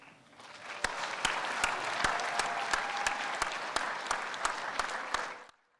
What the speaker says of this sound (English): Big applause there